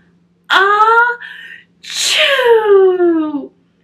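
A voice imitates a loud sneeze during a children's read-aloud of The Mitten: a rising, drawn-out 'ah' breaks off, then a sharp, long 'choo' trails downward, close and clear with nothing else behind it.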